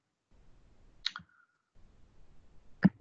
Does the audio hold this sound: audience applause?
no